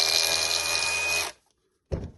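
A loud, steady mechanical hammering buzz from a DeWalt cordless breaker hammer in hammer-only mode runs for over a second, stops abruptly, then briefly starts again after a short silence.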